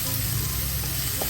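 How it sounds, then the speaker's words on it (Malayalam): Onion, shallots, crushed garlic and pepper frying in coconut oil give a dense, close, continuous sizzle with a brief clink near the end. "നമ്മുടെ സവോളയും ആ ചെറിയ ഉള്ളിയും ചതച്ച വെളുത്തുള്ളിയും ഇതെല്ലാം മൂത്ത് വരുന്നുണ്ട്"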